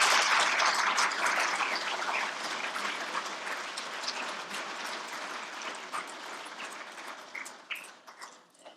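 Audience applause for Eric Fischl and Kate Capshaw at a lecture series event at Phoenix College, a dense sustained wash of many hands clapping that slowly thins and fades toward the end.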